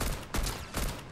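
Gunfire in the Fortnite video game: three loud, sharp bursts of shots in quick succession, evenly spaced and close by.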